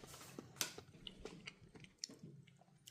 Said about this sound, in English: There's actually still a bit of crunch to the apples, which is nice.